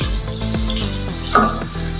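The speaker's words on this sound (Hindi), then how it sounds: "इसको साथ साथ हिलाते रहूंगी मैं, ताकि सब तरफ से अच्छे से ये एक जैसा फ्राई हो जाए।" Green vegetables sizzle and crackle as they are stirred and fried in a pan, a steady dense frying hiss with soft clinks of a spoon against the pan, close and continuous.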